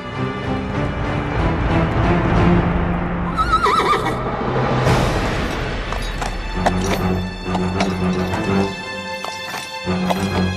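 A horse whinnies loudly up close amid clattering hooves and commotion, followed by heavy movement and scattered thumps.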